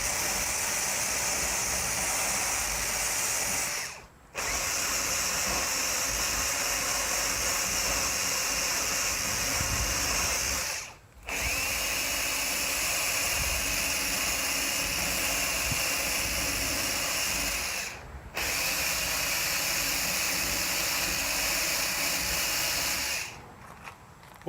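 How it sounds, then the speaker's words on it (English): A Harbor Freight wire wheel on a power tool scours rust from metal during a shuttle bus RV conversion, a loud, harsh continuous grinding whir in three long bursts separated by short pauses. "I'm going to go ahead and clean up this this rust out here. And I'm going to use a wire wheel."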